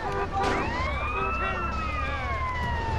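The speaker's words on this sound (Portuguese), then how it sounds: "A ambulância." Ambulance siren in the video game GTA San Andreas on PS2, a steady loud wailing tone sweeping up and down over engine and traffic rumble with no voices.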